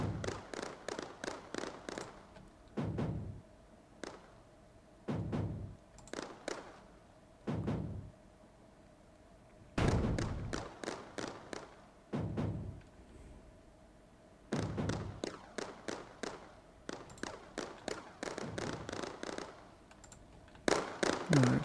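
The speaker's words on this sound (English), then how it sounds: "Let's see if we can bomb that." Bombs exploding in Mindustry during an air raid by a bomber group, a series of sharp, punchy blasts, some isolated and some in rapid clusters, fairly quiet and evenly spaced across the stretch.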